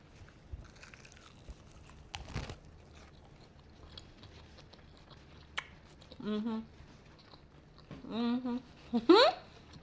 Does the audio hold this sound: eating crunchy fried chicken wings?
yes